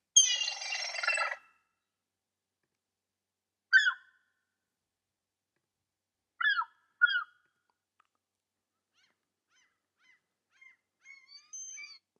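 Seagull sound effect from a library: a loud raucous squawk opens, then a few short isolated cries spaced seconds apart, ending with faint soft calls.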